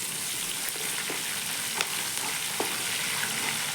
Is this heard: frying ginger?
yes